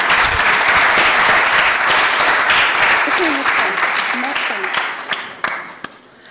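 Audience applause at a youth council launch session in Senegal, greeting the president of the Saint-Louis regional youth council: dense, steady clapping from a sizable crowd that thins and tapers into scattered claps near the end.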